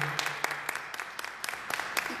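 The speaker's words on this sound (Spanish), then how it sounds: "Un aplauso al padre Javier." Applause for Father Javier during a Tuesday Mass in the seventh week of Easter, heard as scattered, uneven claps from a small congregation, fairly faint and thin rather than a full ovation.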